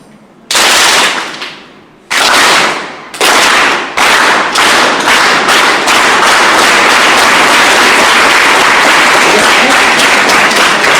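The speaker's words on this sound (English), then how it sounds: "you have to clap when I fold my finger like this" A group of students in a classroom activity clap together in sharp, loud unison bursts, a few separate claps with brief gaps, then breaking into sustained continuous applause.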